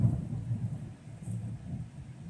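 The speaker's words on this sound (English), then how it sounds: "you can probably hear the thunder" Low thunder rumbles faintly and continuously, a soft, distant roll with no voices over it.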